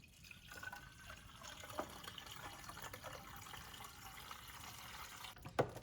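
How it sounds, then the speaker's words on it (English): Distilled water poured without a funnel into the coolant reservoir of a 2015 Ford Mustang 3.7L V6, a soft continuous trickle and splash with a few faint clicks. "We're now going to refill the reservoir, back up with distilled water"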